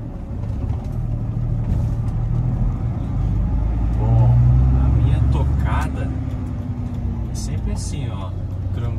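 Ford F-250 pickup with an MWM diesel engine droning steadily as it drives through a mix of town and highway, its low rumble swelling midway while someone talks over it.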